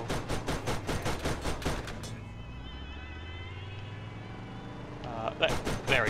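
Rapid bursts of gunfire from a vehicle in the Borderlands video game, a fast rhythmic volley for two seconds, then a lull with engine-like rumble before more shots near the end; people talk over the action.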